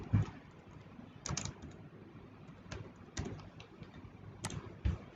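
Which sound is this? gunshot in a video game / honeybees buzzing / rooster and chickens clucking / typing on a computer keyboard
typing on a computer keyboard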